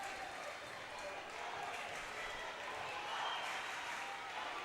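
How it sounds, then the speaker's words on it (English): Crowd at an eight-court squash venue in Santo Domingo, Dominican Republic, during a junior world championship match: a faint, steady murmur of many spectators with scattered clapping, heard from a distance. "You can hear the crowds here at this 8-court venue."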